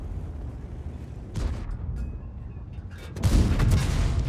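A tank in World of Tanks fires high-explosive shells: two heavy booming shots, the first short and the second louder and more drawn out, over a low rumbling battle background.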